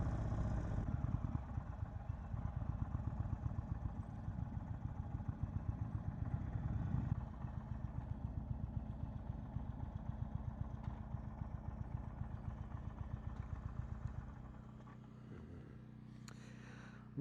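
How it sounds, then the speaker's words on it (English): A 2022 Indian Chief Bobber Dark Horse with a Stage 2 upgrade rumbles along with a deep, steady engine throb and pulsing exhaust, loud and close, easing off toward the end. "That was the 2022 Indian Chief Bobber Dark Horse with the Stage 2 upgrade."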